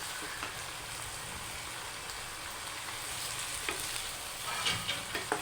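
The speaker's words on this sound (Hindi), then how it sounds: "सबसे पहला काम यही होता है कि प्याज को अच्छे से भून लिया जाए" Chopped onions fry with bone-in chicken in a pan, giving a steady sizzle and crackle. A few sharper clicks and scrapes of stirring come near the end, and there is no talk.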